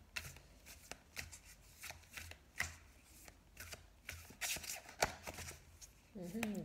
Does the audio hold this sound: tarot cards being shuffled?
yes